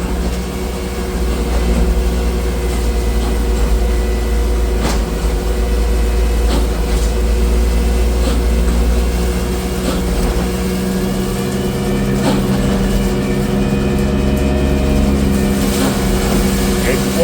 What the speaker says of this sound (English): By using this straw blower, it allows us to bed them down more often really.